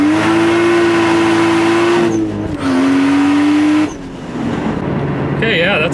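A Toyota Supra accelerates hard from a launch, its engine climbing in pitch through gears with brief drops between shifts, loud and close from inside the car.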